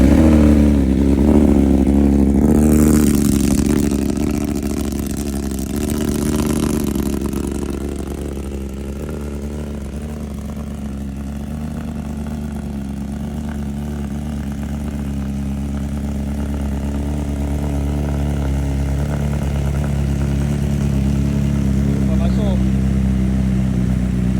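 A BMW S1000RR superbike's engine runs close by, a steady low throaty idle with a brief rise in revs early on, holding loud and continuous throughout.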